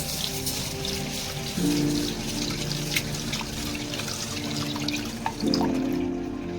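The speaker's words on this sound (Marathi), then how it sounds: "पाऊन ग्लास तांदूळ आता त्याला धुवून द्यायचे" Rice being washed in water in a kitchen, with running tap water and sloshing, trickling splashes close by, steady throughout with a few louder swishes.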